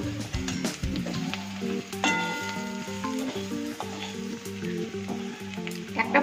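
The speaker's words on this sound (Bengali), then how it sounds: "হাফ চামচ হলুদ গুঁড়ো আর স্বাদ মতো লবণ দিয়ে একটু মিশিয়ে নেব।" Turmeric powder and salt are stirred into food frying in a pan, with a steady sizzle under the scrape and clink of a spoon against the metal, close and fairly loud, and no talking.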